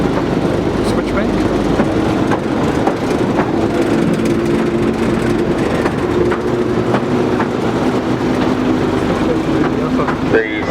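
A Driving Creek Railway train runs along the track across a viaduct, with a steady rumble and clickety-clack at close range while a person talks over it.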